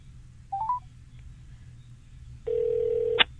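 Telephone call-back tones: a short burst of dialing beeps, then quiet, then a single long electronic ringback tone that cuts off as the line connects.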